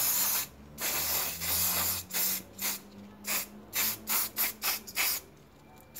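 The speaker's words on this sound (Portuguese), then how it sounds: "Meu spray aspa, tá aqui na peça toda." Fabric spray pumped onto a felt Chanel-style bow, a series of sharp hissing spray bursts, long at first and then quicker and shorter in a steady rhythm, close and loud.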